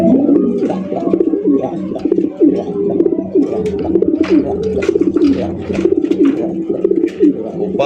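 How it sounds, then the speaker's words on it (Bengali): Pigeons coo repeatedly in overlapping low, throaty calls, close and loud, forming a busy continuous chorus. "বড় একজন ইন্ডিয়ান মুম্বাই কবুতর"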